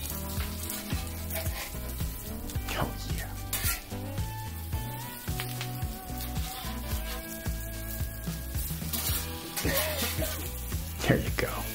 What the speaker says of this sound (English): the jalapenos on the griddle is putting that spicy smoke in the air